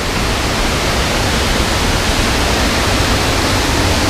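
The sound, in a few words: waterfall of Hiu Pitu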